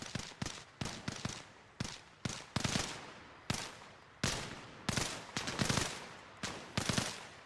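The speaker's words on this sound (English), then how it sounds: "Who are they shooting at?" Gunfire erupts in a video game battle as Marine Raiders assault an insurgent outpost: irregular bursts and single sharp shots crack loudly one after another with brief gaps between volleys.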